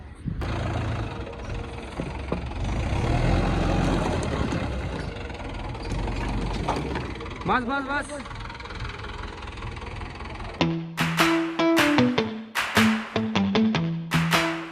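A Mahindra 575 Yuvo tractor runs at a quarry where rubble is being unloaded, its engine chugging and knocking steadily at close range, then giving way to sharper intermittent clatter; a man calls out briefly.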